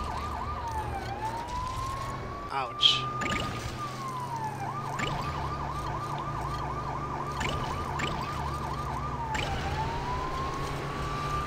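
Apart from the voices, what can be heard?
police car siren in Lego City Undercover video game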